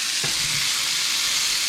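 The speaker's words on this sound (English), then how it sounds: "I'm kind of letting them sear on one side" Pork chops searing in a hot oiled pan, a loud, dense, continuous sizzle heard close up with a brief clunk near the start, no talking.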